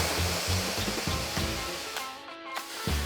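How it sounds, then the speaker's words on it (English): Water splashed onto hot stones in a wood-fired sauna, a broad steady hiss of steam with soft splashy bursts, close and continuous. "splash water onto the hot stones. The room is instantly filled with hot steam."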